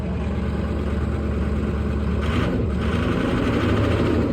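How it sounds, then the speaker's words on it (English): A Ford 6.0L Power Stroke diesel, smoking a little from the exhaust, idles steadily and close by with a dense, lumpy low rumble and clatter that holds level throughout, with no talk. "I love the way these diesels sound."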